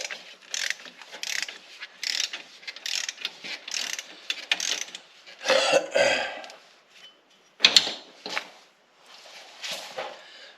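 A ratchet clicks in quick bursts as lift kit bolts are tightened on an EZ-GO RXV golf cart in a garage, close and crisp, with short pauses and a few louder clanks between runs.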